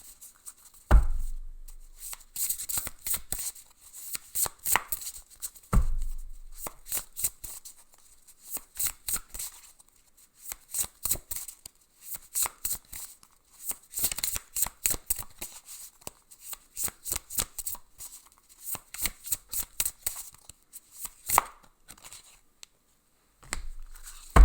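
An oracle card deck being shuffled by hand, a long run of rapid, crisp riffling flutters with a few thumps of the deck being tapped, close and fairly quiet, with no talking.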